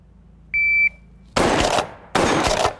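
A Stoeger P3000 pump shotgun fired twice at a range after a shot-timer beep: two sharp, loud blasts about a second apart, each followed by a short decay.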